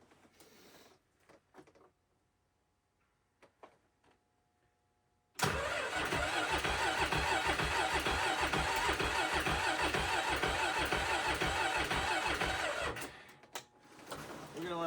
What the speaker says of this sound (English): Bet the snowmobile starts.